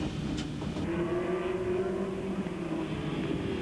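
TVR Tuscan race cars in a 1997 championship race, running in a close pack: a steady, loud engine drone with a sustained tonal whine rising slightly through the pass, continuous and without talk.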